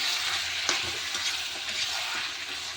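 Tomatoes frying in a pan with meat, a dense steady hiss of sizzling oil, close and even, with a faint knock or two of a utensil and no talking.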